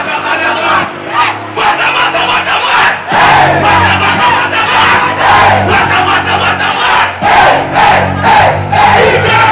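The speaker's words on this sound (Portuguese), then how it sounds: "Quem acha que o Santo foi melhor no primeiro round, faz barulho!" A loud crowd at a rap battle roars, cheers and shouts in waves with rhythmic chanting, while an announcer's voice cuts through the din.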